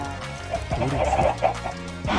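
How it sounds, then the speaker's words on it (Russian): A chicken in a video game gives a few short clucks, loud and close, amid game background sounds. "Курица."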